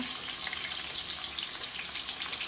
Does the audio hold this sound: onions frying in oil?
yes